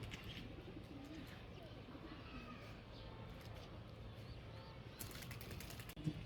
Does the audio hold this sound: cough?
no